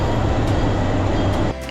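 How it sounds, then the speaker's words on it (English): A PeruRail train arrives at the station on the Machu Picchu route, a loud close rumble of wheels and carriages that drops off abruptly at the end. "Here comes our 10:30 train that we booked with Peru Rail."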